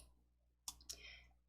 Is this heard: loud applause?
no